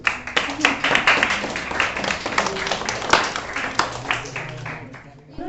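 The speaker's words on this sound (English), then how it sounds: "Let us welcome all the teachers with a big round of applause" An audience at a Teachers Day event claps to welcome the teachers, a lively burst of many hands with distinct sharp claps standing out, close and fairly loud, with a voice rising briefly near the end.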